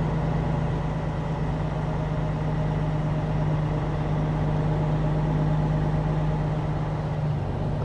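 A big truck passes on the left along Indiana's I-70 interstate, a steady low engine drone and tire rumble rolling continuously at moderate loudness from inside a moving vehicle, with no talk.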